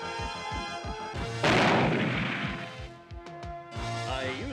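A cartoon villain fires a ray weapon in a He-Man animated episode: a loud crackling energy blast bursts out over a steady rhythmic pulsing score, followed by sharp zapping tones.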